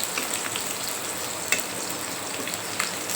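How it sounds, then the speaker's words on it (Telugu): Korameenu fish deep frying in oil, village style, with a steady close crackling sizzle and a few small pops throughout. "ఇదే మసాలాతో మేము మాత్రం డీప్ ఫ్రై చేసుకుంటున్నామండి."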